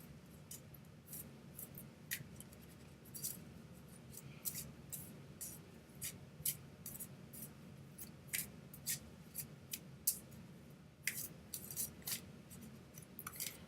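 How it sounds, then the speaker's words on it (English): Playing cards shuffled by hand for a draw, a sparse run of crisp, faint clicks and snaps over quiet room tone, with no talking. "So I'll shuffle for you first"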